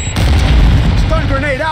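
Sticky grenade detonation in a Call of Duty MWII multiplayer match, a single loud close boom that rolls into a rumbling tail, with a voice speaking briefly near the end.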